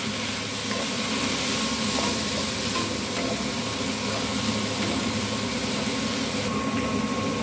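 Kangkong (water spinach) sizzles in a pan with onions, a steady, fairly soft frying hiss with occasional stirring scrapes running evenly throughout.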